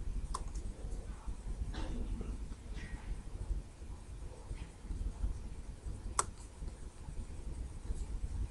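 Computer mouse clicks while working in OpenRocket rocket design software: a few sharp, isolated clicks scattered over a faint background hiss.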